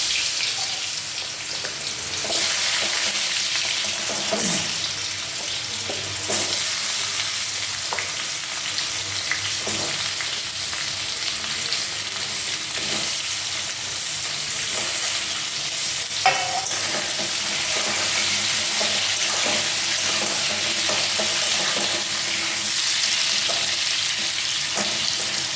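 Pumpkin pieces sizzling in a hot pan for a vegetarian dalna cooked without onion or garlic, with a constant frying hiss and occasional knocks and scrapes from stirring, steady and near.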